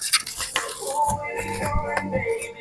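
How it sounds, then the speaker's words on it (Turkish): Fissler Viseo stainless steel pots and lids being handled, with several close metallic clinks and clanks of lids against pot rims, sharp and irregular over a quiet room. "Tencerelerimizi açalım"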